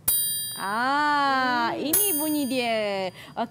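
A metal kerincing jingle instrument is struck, ringing out in a bright sustained metallic tone, then struck again as a person speaks over the fading ring.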